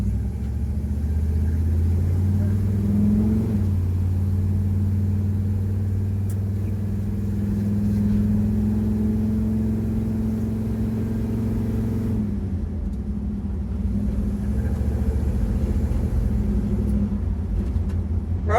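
A Chevrolet C10 truck engine idles with a steady low rumble and a slight rise in revs partway through, loud and close, with no talk.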